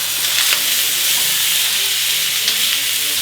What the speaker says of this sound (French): On va les faire saisir le côté.